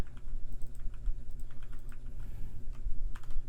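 Java code being typed on a computer keyboard, a steady run of quick, close key clicks with a few louder taps, heard alone without talk.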